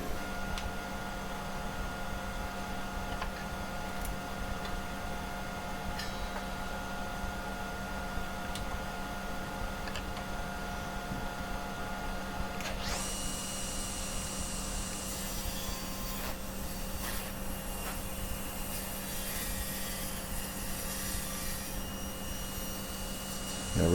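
A saw cuts through a 2-inch-thick wood blank, a steady rasping hum with a constant mechanical drone underneath that grows brighter and harsher partway through as the blade bites in.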